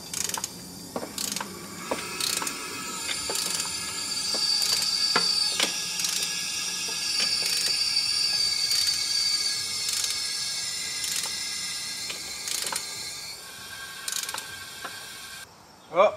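A ratchet cranks a car engine over by hand during a leak-down test, giving repeated sharp clicks at an uneven pace over a hiss of compressed air, close and clear with no talking.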